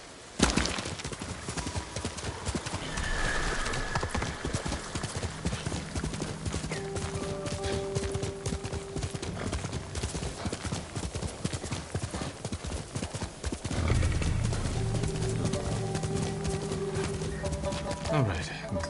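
Horse hooves clip-clop steadily in Ghost of Tsushima, the horse Nobu carrying its rider at a run across the game world, with a short whinny and music layered over the rhythmic footfalls throughout.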